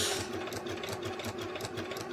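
A sewing machine stitching a tote bag, a quiet, even, rapid mechanical whir-and-clatter running steadily throughout without pause.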